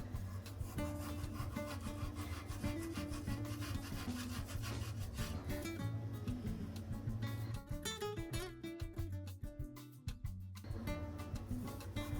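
A knife thinly slices meat for İskender, a busy rhythmic rasping and sawing scrape that repeats steadily throughout without any talk.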